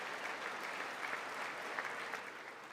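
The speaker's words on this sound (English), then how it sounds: "they're going to start clapping every other sentence he makes" Audience applause in the chamber during the State of the Union address, steady dense clapping heard at a low, distant level throughout, with no voices over it.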